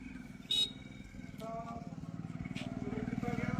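A motorcycle passes on a village road in Chandbhan, Punjab, its engine a low, rhythmic putter that grows slightly stronger toward the end while people talk nearby.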